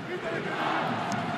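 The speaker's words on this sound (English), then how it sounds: "Crowd get up again" Rugby crowd in a Top 14 stadium roars to its feet, a dense, sustained wash of distant cheering voices under close commentary.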